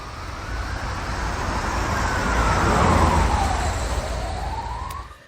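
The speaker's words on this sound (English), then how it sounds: "The sound of cars and sirens on the streets of the capital." Kyiv streets during the Russian invasion: a steady wash of traffic with a rising and falling emergency siren sweeping across it, moderately loud and continuous, no voices.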